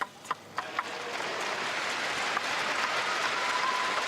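Sold-out arena crowd at a table tennis world cup final swelling into sustained applause after a few sharp ball taps at the start.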